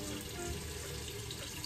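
Tap water runs steadily from a bathroom sink faucet into a cupped palm, a continuous close splashing hiss with no voices.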